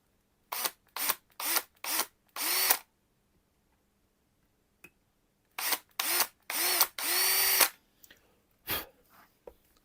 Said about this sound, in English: And now you can use your power drill.